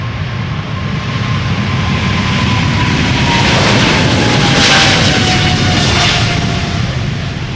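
A China Cargo Airlines Boeing 777 freighter takes off at Schiphol's Polderbaan, its jet engines producing a loud, steady, broadband roar that swells and holds close by throughout, with a faint whine drifting across it.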